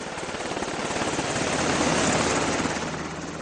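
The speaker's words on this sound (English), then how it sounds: "A medevac chopper is called in to airlift the wounded man to a military hospital in Kandahar." A medevac helicopter near Kandahar in Afghanistan thunders loud and close, rotor blades chopping in a rapid steady thump under a roaring engine, with no voices.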